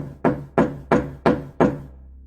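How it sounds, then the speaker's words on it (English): Five loud, evenly spaced bangs on a door, each a heavy thud with a short ringing decay, followed by silence. "The man then started to loudly bang on my door."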